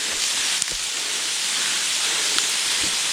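Steady rain falls on a hiking trail in South Korea in July, a close, even hiss of drops with a couple of faint taps, heard alone without talk.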